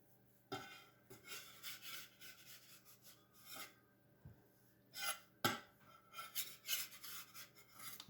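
Spatula scraping pie crust dough off a countertop: a series of short rasping scrapes with brief pauses between strokes, close and fairly quiet.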